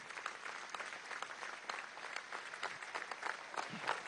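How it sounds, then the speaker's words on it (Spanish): A crowd at a political rally marking the anniversary of the 11 April 2002 coup, applauding in a dense continuous roar of clapping, heard from a distance and holding steady for several seconds. "Un minuto de aplauso"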